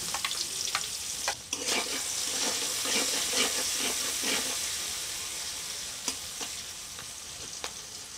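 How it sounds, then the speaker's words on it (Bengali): Chopped onion hits leftover fish-frying oil in a pan and sizzles, with clattering spoon strokes stirring it in a burst of scrapes, then a quieter steady hiss and occasional clinks, close and without voices. "এখন আমি এই মাছ ভাজার যে অবশিষ্ট তেল রয়েছে সেই তেলের মধ্যেই দিয়ে দিচ্ছি পেঁয়াজ"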